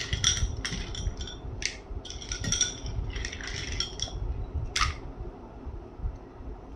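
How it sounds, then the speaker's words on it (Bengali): Ice cubes clink and rattle into a container as a chilled yogurt-based drink is prepared in a home kitchen, heard as scattered bright, close clinks over a low background. "বরফের কিউব।"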